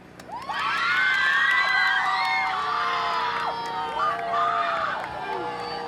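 A live studio audience on a talk show cheers, whoops and shouts loudly in a sustained crowd roar, with excited high voices rising and falling throughout, picking sides between fire department and police.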